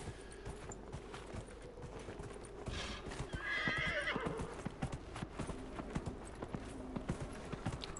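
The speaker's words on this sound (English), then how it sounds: "call the magic horse again" Hooves clip-clop steadily in an even walking rhythm in the video game Dragon Age: Inquisition, and partway through a horse lets out a loud, high whinny over the footfalls.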